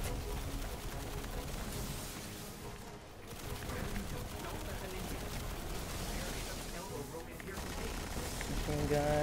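Machine gun fire in the video game Destiny: a steady, dense wash of rapid gunfire and explosions that runs nearly the whole time, with a player talking over the din.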